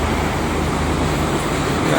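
Steady roadway rumble of heavy traffic with many trucks on the Jakarta-Cikampek toll road in the morning, a dense continuous low drone of engines and tyres filling the whole moment, with no distinct passes standing out.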